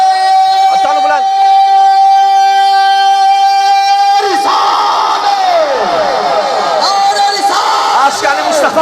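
A leader calls out a sustained, tonal Islamic slogan, Naara-e-Risalat, and a large crowd answers with a loud, unified roaring chant, rising and falling together.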